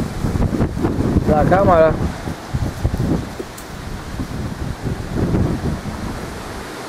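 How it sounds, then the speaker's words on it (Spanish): Strong gusts buffet the microphone outdoors, a rough rumbling roar that surges and fades under someone talking throughout. "está haciendo un viento fuerte"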